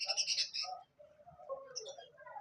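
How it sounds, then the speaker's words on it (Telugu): Semi hand-tamed lovebirds in a pet shop give a quick burst of high chirps followed by softer twittering calls, close and fairly faint. "ఇవి లవ్ బర్డ్స్ ఫ్రెండ్స్"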